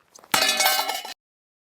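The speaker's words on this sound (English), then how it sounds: "see how it holds up to Josh hitting it with a sledgehammer" A sledgehammer strikes 12 gauge steel dump body material with one sharp, loud metallic clang that rings briefly before cutting off, with a few faint knocks just before it.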